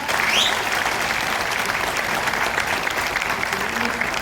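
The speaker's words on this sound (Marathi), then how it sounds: "त्याला टाळ्या कडकडून वाजवावं जरा" Loud, dense audience applause fills a hall at a Marathi film festival awards night in Ambernath, holding steady and unbroken throughout with no gaps, a brief whistle-like tone rising briefly near the start.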